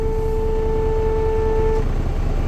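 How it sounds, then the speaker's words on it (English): A truck's electric horn, heard from inside the cab, blares in one sustained, steady honk for nearly two seconds over a low engine rumble, then cuts off. "We have the electric horn."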